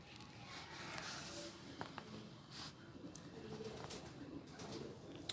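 Teddy pigeons coo softly in a loft, low murmuring calls repeating under a noisy, busy background.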